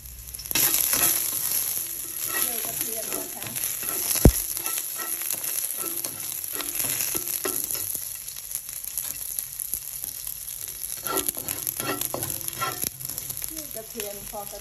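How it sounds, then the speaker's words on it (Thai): Winged beans and cabbage stir-fried in fish sauce, giving a steady, close sizzle with scraping stirs throughout and a soft voice talking at times. "วันนี้เราจะเอามาผัด กับกะหล่ำปีแบบผัดน้ำปลานะคะ"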